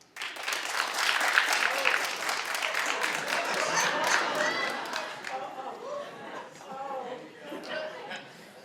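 Studio audience at a daytime talk show breaks into loud applause with some laughter and chatter, swelling early and then thinning into scattered voices.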